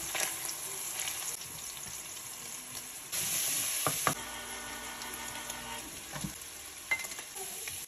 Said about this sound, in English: Started with cooking the meat.